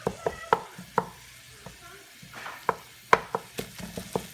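A spoon knocks and scrapes around a pot of cooking spaghetti in uneven bursts of clatter, with soft sizzling from the stovetop between strokes and no speech.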